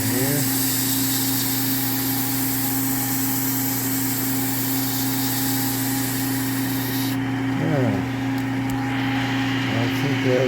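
A steady, loud mechanical whine of a power sander grinding against a metal fork part of a BSA A65 motorcycle runs throughout, with a slight pitch shift near the end.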